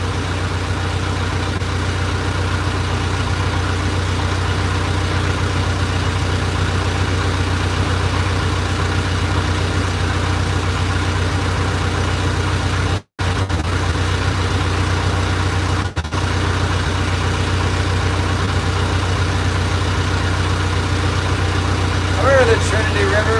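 A boat engine on a river drones continuously at a loud, steady idle, broken once by a brief dropout partway through.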